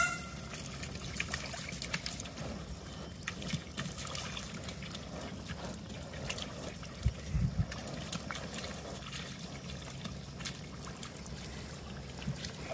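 Water from a splash pad for alpacas trickles and patters without a break, a soft, fairly faint outdoor spray with scattered drips and a brief louder splash partway through.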